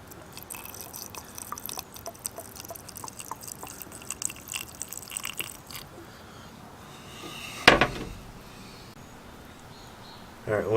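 Mineral spirits are poured into silicone for homemade seam sealer, a quiet trickling, dripping stream with scattered small splashes and one sharp knock late on.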